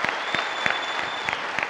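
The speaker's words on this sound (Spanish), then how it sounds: "Aplaudan si ustedes mismos." Audience applause at a Spanish-language talk show, a steady dense clatter of many hands clapping close by, filling the whole short stretch with no voices over it.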